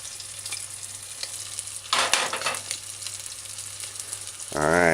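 Fish for Jamaican escovitch sizzles steadily in a frying pan, with a louder burst of spattering as the pieces are turned and a brief rising tone at the end.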